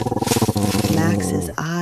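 A deep, throaty big-cat roar, loud and close, serves as a sound effect in a children's bedtime story, with a pulsing growl that swells into a sustained roar and breaks off sharply.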